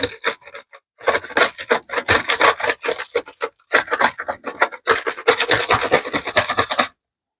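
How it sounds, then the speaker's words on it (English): Dried gouache paint is scraped off a palette in bursts of harsh, close rasping strokes with short pauses between them, loud and continuous until the scraping stops at the end. "My palette dried off. So I'm just going to scrape this off."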